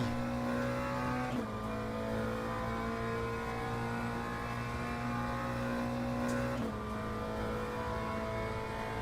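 Simulated race car lapping a circuit in the racing game Le Mans Ultimate, a steady engine drone held at high revs with two brief dips as it shifts gears, continuous and alone without talk.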